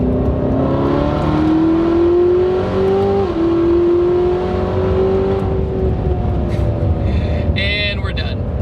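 A supercharged 2019 Chevrolet Corvette ZR1 accelerates hard up close, its loud droning pitch climbing steadily, dipping briefly at a paddle-shift gear change, then pulling on.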